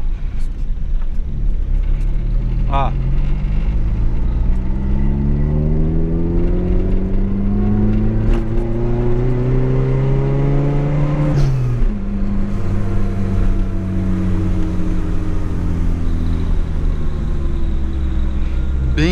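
A supercharged Volkswagen Gol G2 engine revs up smoothly with rising pitch and boost, whines and rumbles loudly up close, then drops and climbs again.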